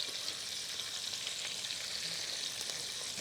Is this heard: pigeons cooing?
no